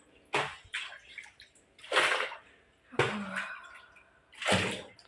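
Water from a motor pump gushing into a bucket in repeated loud splashing bursts roughly every second and a half, near and alone.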